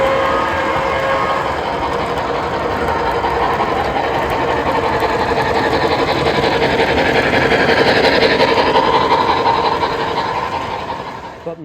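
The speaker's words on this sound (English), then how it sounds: "The chuffs sound deep and aggressive" MTH Pennsylvania T-1 Duplex model steam locomotive gives off steady, fast rhythmic steam chuffs with a mechanical whir, loud and continuous throughout, with no voices.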